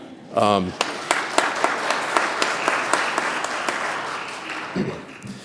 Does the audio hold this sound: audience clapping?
yes